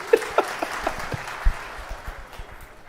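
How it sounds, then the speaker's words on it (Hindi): Applause bursts from an audience at a Hindu devotional darbar gathering at Pandokhar Sarkar Dham, with scattered sharp claps thinning into a steady diffuse patter over about three seconds, no speech over it. "बजाओ बाबा के नाम पर ताली"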